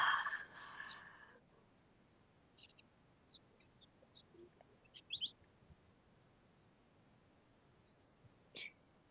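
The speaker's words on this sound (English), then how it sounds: "The birds are going crazy." Birds call outdoors during a yoga session, with scattered short faint chirps spread across a quiet background, following a brief noisy rustle at the start and a sharp tap near the end.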